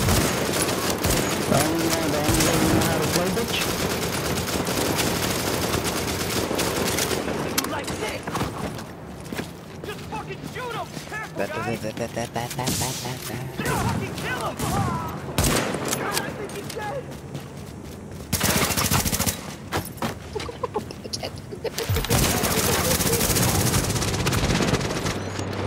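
Gunfire from The Division video game, dense bursts of shots running through most of the stretch with brief lulls, mixed with game effects and voices talking over it.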